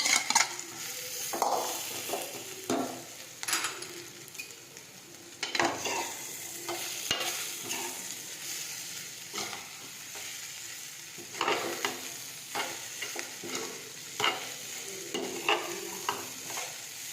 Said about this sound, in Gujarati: હવે પૌવા છે તે નાખી દઈશું.